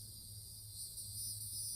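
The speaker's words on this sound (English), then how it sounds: "cicadas" A steady, high insect drone of cicadas fills the background, continuous and even throughout.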